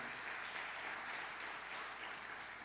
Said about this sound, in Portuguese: Pode aplaudir Ele aí, que você o ama.